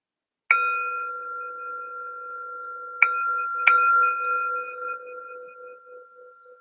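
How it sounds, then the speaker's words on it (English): A meditation bell rings three times in an otherwise silent room: one clear strike, then two more close together after a pause, each tone sustaining and slowly fading. "A little different cadence to the bell."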